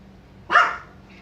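A small dog lets out a single sharp, close bark, followed by a faint short echo or yip in a quiet room.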